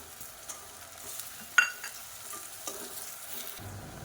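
Onions and mint leaves sautéing in oil in a pan for biryani, a low, faint sizzle with occasional stirring clinks, including one sharp utensil knock near the middle.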